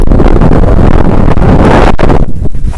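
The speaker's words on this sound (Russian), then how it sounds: "тут ветер дует" Loud, gusty wind during a winter blizzard on an island buffets the microphone with a continuous roaring rumble that barely lets up.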